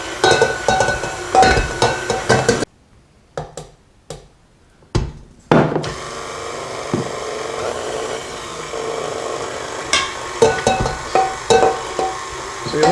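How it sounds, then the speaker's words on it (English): Pizza dough being mixed in a bowl, with repeated rhythmic slapping and scraping thuds up close, a brief quieter gap partway through, and a steady background hum, no talk. "you want that dough to come up off the bowl when you're mixing it"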